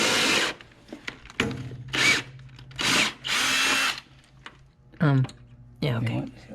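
A power drill sets rivets on a Corvette C7 rear wing in several short, loud whirring bursts separated by pauses, with brief speech near the end.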